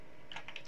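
A few quick keystrokes on a computer keyboard, entering an IP address in network configuration software, sound as short, faint clicks clustered near the end, with no speech.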